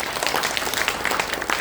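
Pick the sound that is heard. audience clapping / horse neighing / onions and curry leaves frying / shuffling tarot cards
audience clapping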